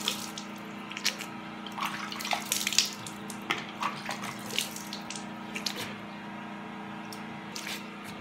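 Tap water runs steadily at close range while a tomato and sugar face scrub is rinsed off, with splashing bursts as hands move through the stream.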